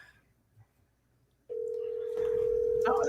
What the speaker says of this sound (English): Let me see if he gonna answer this phone.